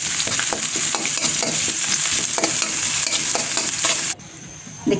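Chopped onion fries in hot oil in a wok, giving a loud, continuous close-up sizzle with scattered crackles that abruptly drops to a much quieter hiss near the end.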